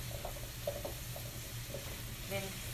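Zucchini stir-frying in a pan, a soft steady sizzle with faint scraping stirs and small pops close by, no talking over it.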